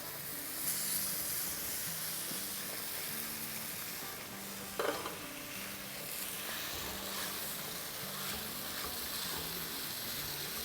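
Masala with tomato frying in a pan for a mix veg sabzi, a steady close sizzle with a few brief stirring scrapes partway through, no talk.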